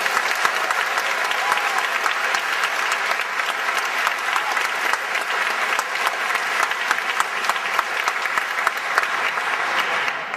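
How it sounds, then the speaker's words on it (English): Sustained applause from the audience at the Biotechnology High School class of 2010 graduation, a steady dense wash of many hands clapping that holds evenly for about ten seconds. "Let's give a round of applause."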